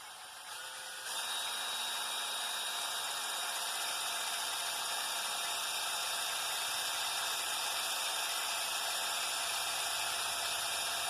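A drill bores a rivet hole through tough brake lining on a Gibson tractor brake band, a steady high whine starting after a second and holding constant, close by and uninterrupted.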